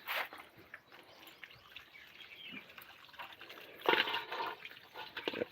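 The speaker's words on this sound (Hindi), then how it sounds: "पानी आया है, पानी भर रहे हैं।" Water runs from a tap into household containers in the morning, a steady hissing splash with a louder clatter midway, while birds chirp faintly in the background.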